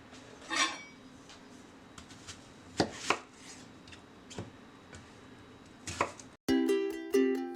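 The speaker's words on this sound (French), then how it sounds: "on va commencer par couper l'oignon" A kitchen knife chops an onion on a cutting board with scattered, irregular knocks, several of them sharp and close. A brief clatter of cookware follows near the end.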